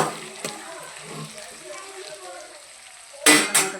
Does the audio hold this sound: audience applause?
no